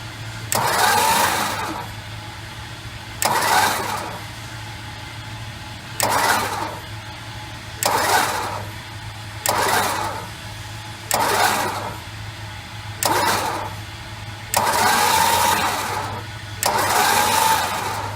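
A 1968 Chrysler 300 with a 440 TNT V8 is cranked in a garage in about eight separate loud bursts of a couple of seconds each, evenly spaced over a steady background hum, with no talking.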